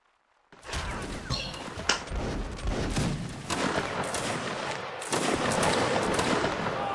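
Musket volleys in a Napoleonic Wars line-battle game, a dense, loud fusillade of overlapping shots that crackle continuously for several seconds after a brief quiet start and swell again near the end.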